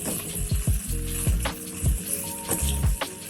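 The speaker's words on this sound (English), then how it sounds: "I'm stir frying, and I'm just moving the vegetables around" Vegetables sizzle in a hot pan while being stir fried, the steady frying hiss broken by repeated scraping and clanking of a utensil against the pan every half second or so, close and fairly loud, with no talking.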